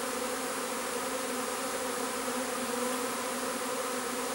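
A honeybee swarm hums around a hive box, a dense, steady buzzing drone filling the whole stretch at close range with no talking.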